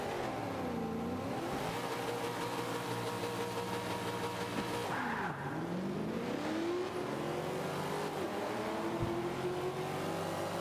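A race car engine in Forza Motorsport 5 revs and accelerates continuously, pitch sweeping up and down through gear changes, loud and steady with no talk.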